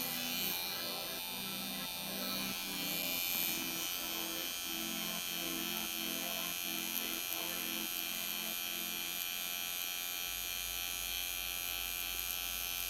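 A permanent makeup pigmentation machine buzzing steadily during skin work, a thin constant electric whine with faint rhythmic pulses, close and quiet, alone without talk.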